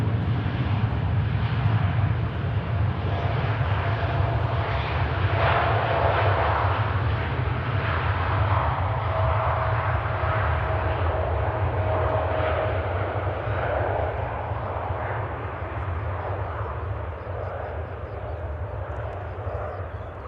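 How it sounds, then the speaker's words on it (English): A heavy airliner departs Manchester Airport in damp weather. Its jet roar is a steady broad rumble that holds for the whole stretch and fades slightly toward the end. "Another lovely heavy departure."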